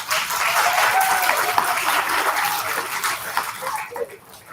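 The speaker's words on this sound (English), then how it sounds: "give all of the students recognized this morning a final round of applause" A crowd of children and adults at an elementary school student recognition ceremony gives a sustained round of applause, dense overlapping clapping filling the room and tapering off toward the end.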